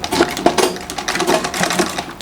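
A sewing machine stitches a slanted trouser pocket. Close, quick mechanical clatter comes in short uneven bursts, with rapid ticking needle strokes and brief pauses between runs.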